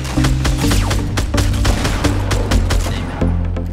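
Rapid bursts of video game gunfire from a Fortnite match, loud and dense with overlapping automatic shots and single cracks throughout, with no talking.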